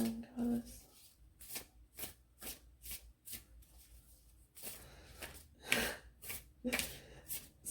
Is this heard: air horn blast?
no